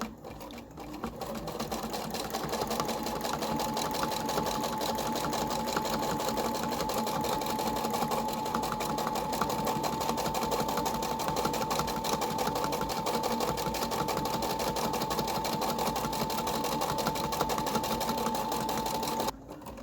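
A sewing machine stitching quilted hot pads runs steadily for nearly twenty seconds, a fast even mechanical whirr with a constant hum, close and loud, stopping abruptly at the end.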